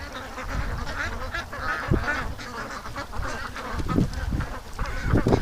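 Ducks quacking near a lake, a close, busy chorus of overlapping quacks and honks going on continuously at moderate volume.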